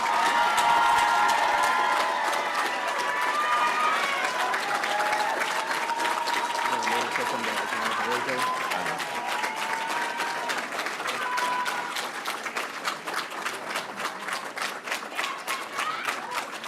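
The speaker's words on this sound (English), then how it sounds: "I ask that you now give a round of applause to our newest sworn members of the Metro Council." Sustained applause and cheering from a large audience at a transit police academy graduation ceremony, steady and loud throughout with scattered shouts and voices mixed into the clapping.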